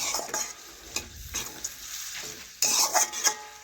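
Broccoli and potato pieces sizzle in a pan while a utensil stirs in vegetable spice, with scraping, clinking strokes over a faint steady fry, the stirring loudest near the end.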